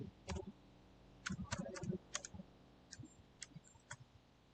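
Computer keyboard keys clacking as C code is typed, in short irregular bursts of close, crisp clicks separated by brief pauses, with no voices.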